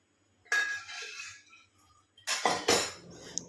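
Boiled chickpeas are emptied out of a metal cooking pot in a home kitchen, giving two bursts of clanking, scraping metal and rattling separated by a quieter pause.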